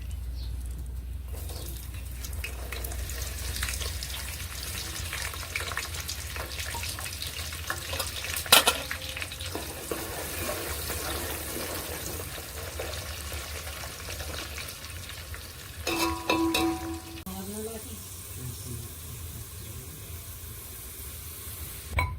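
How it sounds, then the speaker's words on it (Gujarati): Peanuts and onion frying in hot ghee for a Rajasthani dal bati meal, a steady broadband sizzle running throughout with occasional sharp clinks and scrapes of a utensil against the pan, close and unaccompanied by speech. "તો ઘી ગરમ થઈ ગયું છે એમાં નાખવાની સિંગ અને નાખવાની ડુંગળી."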